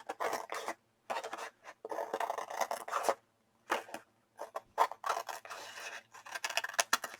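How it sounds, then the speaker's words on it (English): Scissors trimming excess orange paper from the edge of a scrapbook calendar page, a run of close, dry rasping snips in short bursts separated by brief pauses. "I'm just literally just trimming up the side here, getting the excess orange off."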